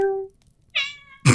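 A person imitates a cat's meow: two short, bright vocal meows close to the microphone, separated by a brief pause, followed by a sudden burst of noise.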